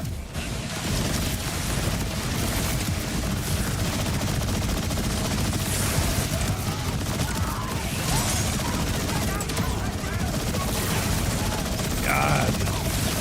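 An automatic gun in Borderlands 4 fires in a rapid, sustained stream of shots that runs almost unbroken for over ten seconds, loud and close, with game effects and occasional voices underneath.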